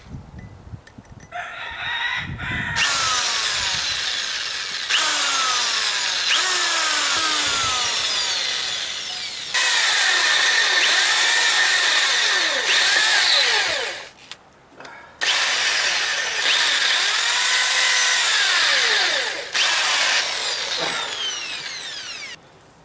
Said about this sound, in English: So I'm going to try to drill a tiny hole through it.